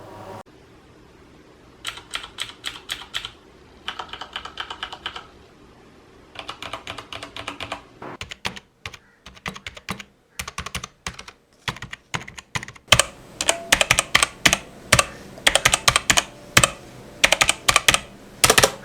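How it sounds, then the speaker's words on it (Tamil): Typing on a Cosmic Bytes GK-30 mechanical keyboard with brown switches: close, crisp clusters of key clacks in short bursts separated by pauses, growing louder and faster toward the end, with no talking. "இப்போ நம்ம ப்ரௌன் ஸ்விட்சஸ் வந்து போனால் இப்படி கேட்குதா"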